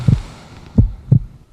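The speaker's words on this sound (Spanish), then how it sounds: "los latidos del corazón de mi padre" Three slow, muffled heartbeat thumps, deep and close, spaced evenly apart with quiet between them, presented as a father's heart beating.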